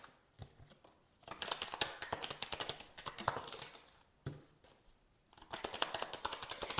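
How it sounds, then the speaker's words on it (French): A tarot card drawn from a deck: crisp papery riffling and flicking in quick bursts, close and fairly quiet, broken by brief pauses between handling sounds. "On va prendre une autre carte."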